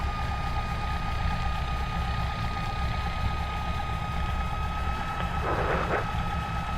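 A Piper PA28-161 light aircraft taxis with a continuous droning engine and a steady hum, plus a brief hissing rush near the end.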